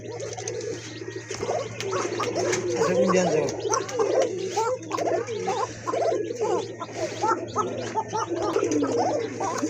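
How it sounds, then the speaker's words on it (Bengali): A pair of Koka pigeons cooing continuously in a steady throaty burble, close and fairly loud, with a constant low hum underneath. "এক জোড়া কোকা কবুতর এখানে কিন্তু আপনার দুইটা কবুতরই খুব ভালো ডাকে"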